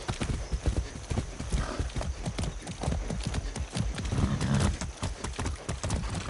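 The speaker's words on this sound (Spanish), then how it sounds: "¡Qué buen caballo!" A horse galloping in the video game Far Cry 6, a steady, loud run of clip-clop hoofbeats with an occasional whinny, close by and continuous.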